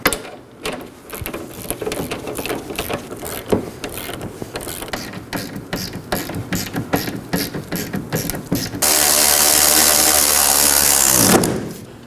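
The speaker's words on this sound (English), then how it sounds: "Now we're going to go ahead and snug down these three 18mm bolts and nuts on the suspension." A ratchet snugs down three 18mm bolts and nuts on the rear suspension of a 2018-2024 Chevrolet Equinox: a long run of close, rhythmic clicks, then a steady mechanical whir for a few seconds before stopping.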